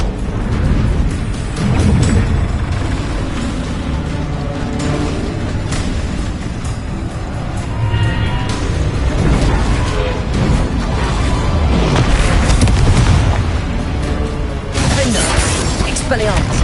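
Spell blasts from a Harry Potter video game boom and shatter in a dense, loud, continuous barrage, with a voice shouting over the explosive clamour.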